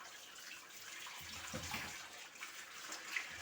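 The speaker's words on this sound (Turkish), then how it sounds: "Patatesimi yıkadım arkadaşlar." Potatoes being washed under a running kitchen tap, a faint, steady stream of water with soft splashes and dribbles heard alone.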